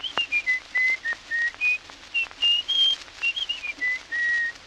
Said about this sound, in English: A tin whistle.